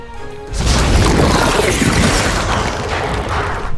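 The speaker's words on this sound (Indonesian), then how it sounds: "Meledak." A loud explosive boom bursts in after a brief quiet start, followed by a sustained roaring crash and rumble that lingers, game-like.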